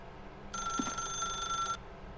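A single burst of an old-style telephone bell ringing in The Stanley Parable: Ultra Deluxe, a bright metallic trill lasting about a second over quiet background.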